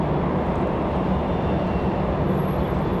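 An Airbus A220 landing at Raleigh-Durham International Airport, heard as a steady, loud broadband jet roar that holds level for the whole stretch with no break.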